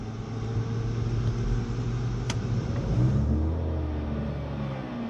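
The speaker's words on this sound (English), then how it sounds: "Alright, hot engine start" A Cirrus SR22 engine is hot-started: a close, loud rumble builds and rises in pitch as it catches and settles, with a short click partway through.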